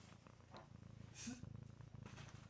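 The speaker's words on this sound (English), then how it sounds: "pay attention to my kitty purring on air" Close, soft rhythmic purring from a cat, a steady rumbling pulse with a faint brief noise in the middle.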